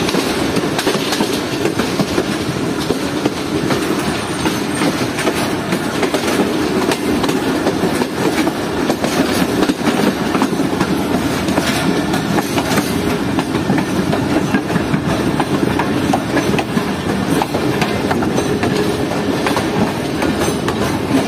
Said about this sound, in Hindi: बस के 50 मिनट पर ट्रेन हमारी पहुंच रही है लाला मूसा जंक्शन रेलवे स्टेशन पर।